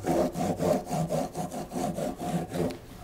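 Sandpaper of the finest grit rubbing back and forth along a cracked guitar fretboard, a steady series of close scratchy strokes, about six passes in three seconds, with no voices.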